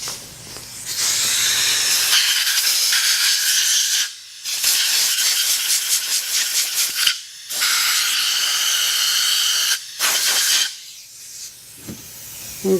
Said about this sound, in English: We're going to go ahead and get some compressed air and just blow that out just to be sure.